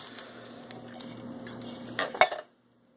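Chickpeas tumble into a crock pot of chili, a few soft clinks and scrapes of metal utensils against the pot building to a brief clattering burst before cutting to silence.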